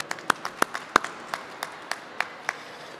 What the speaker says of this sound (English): deserves yet another round of applause